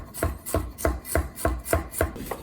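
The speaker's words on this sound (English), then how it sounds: "All I'm going to do is just roughly chop these" Vegetables being roughly chopped with a knife on a board, heard as a steady run of about eight evenly spaced, close, crisp thuds with nothing else in between.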